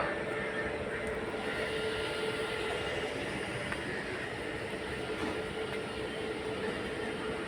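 A train at Raigarh station in the early morning hums and rumbles steadily, a continuous, moderately loud drone of railway noise with no voices.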